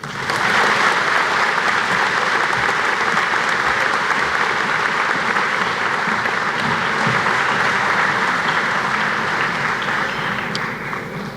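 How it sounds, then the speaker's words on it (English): A large crowd at the Faribault High School commencement claps loudly and continuously, a thick, even roar of hands holding steady before easing slightly at the end. "Can we give one more big round of applause to both Lexi and Bree?"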